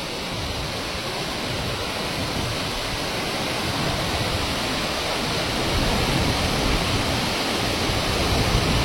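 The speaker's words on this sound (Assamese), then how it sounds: "মই মোৰ লাইফত এনেকুৱা জলপ্ৰপাত দেখা নাই দেই এইটোৱে প্ৰথম দেখিছো ইমান ওচৰৰ পৰা" A waterfall on the road to Tawang roars up close, a loud, steady, dense rush of falling water that swells slightly toward the end.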